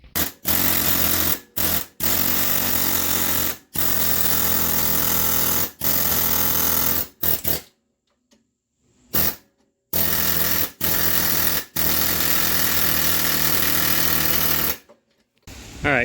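A pneumatic air chisel hammers at the differential bushings of a Ford Mustang 8.8 rear end in loud, rapid, rattling bursts, broken by short silent gaps and a few brief pauses.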